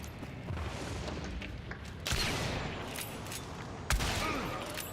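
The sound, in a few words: gunshots exchanged in a video game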